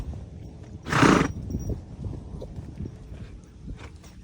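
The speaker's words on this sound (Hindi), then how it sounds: "साउंड निकाला है घोड़े ने।" A horse whinnies in one loud, close burst lasting about half a second, with soft hoof clip-clops continuing underneath and after it on a farm.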